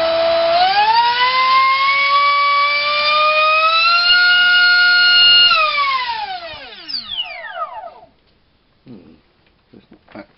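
Propdrive 2836 2700kv brushless motor on 6S power spinning a TGS 4.1x4.1 propeller, a loud rising whine that holds steady at high pitch, then winds down and fades out.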